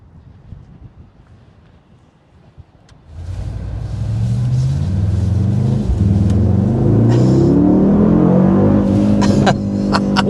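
A 2024 Mercedes-AMG GLS 63 V8 SUV surges from a quiet idle into a loud, rising engine roar on the road, holding steady and strong through the rest of the clip.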